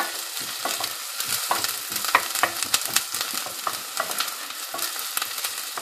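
Onions sizzle and crackle loudly in a hot pan, with scraping stirs and popping bursts throughout, close up and without speech.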